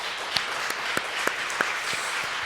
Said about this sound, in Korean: 우리 주님께 감사와 영광의 박수를